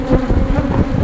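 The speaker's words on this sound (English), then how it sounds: "Yeah, these bees are not happy" Honey bees swarm loudly around an opened hive during maintenance, a dense, agitated buzz close by that wavers continuously without pause.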